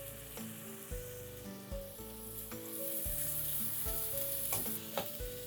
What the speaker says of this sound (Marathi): ह्याला 2 मिनिटं मस्त परतून घेऊया, म्हणजे मसाला आणि मसूर एकजीव होईल